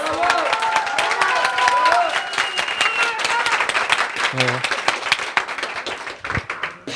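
An office award ceremony audience claps and cheers, with a dense burst of applause and whoops that tapers off as a voice speaks a brief greeting.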